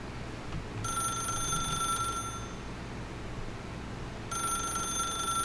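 A telephone rings in The Stanley Parable, two bursts of an electronic bell separated by a pause, heard clearly over a steady low background hum.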